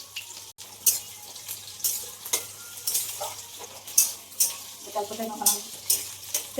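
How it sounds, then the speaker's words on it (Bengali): Onion and garlic frying in a pan for duck curry, with a gentle sizzle under repeated scraping spatula strokes in an uneven rhythm, close by and moderately loud. "এখন ফ্রাই করবে।"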